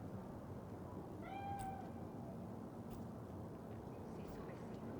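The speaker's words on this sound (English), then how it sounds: "Do you see it? The cat." A cat in the Cyberpunk 2077 video game gives a single clear, rising-then-falling meow, mid-distance over a steady low rumble of game ambience.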